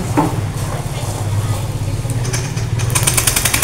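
Electric starter of a Yamaha Lexi scooter cranking the engine, which has a starting fault, a loud close whirring drone throughout that grows brighter and rougher toward the end.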